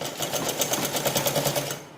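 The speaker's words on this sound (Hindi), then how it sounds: "अब ये वाली सिलाई लगा दूँगी मैं" A sewing machine runs steadily while stitching a can-can petticoat, its needle chattering in a fast, even pulse up close before slowing to a stop.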